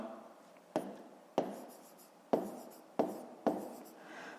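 Pen writing on paper while a math exercise is worked out, with about five short, sharp scratching strokes at irregular intervals, each trailing off, near and fairly quiet with no talk.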